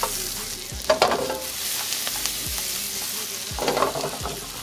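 Garlic, jalapeño and serrano frying in melted butter in a very hot pan: a steady close sizzle with a few sharp stirring clatters and scrapes.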